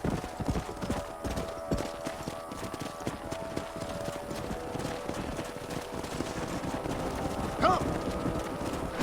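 Horses walking in Red Dead Redemption, a steady run of hollow hoof clip-clops with overlapping footfalls, a brief neigh near the end and faint voices in the background.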